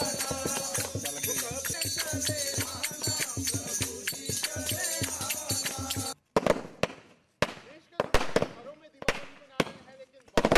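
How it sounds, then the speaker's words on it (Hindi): Diwali firecrackers set off at a BSF post in Jammu crackle in a dense rapid barrage, then give way to separate sharp bangs with short gaps, some voices faintly mixed in. "कुछ पटाखे थे, कुछ फुलझड़ियाँ थी, वो हमने बच्चों की तरह जलाई"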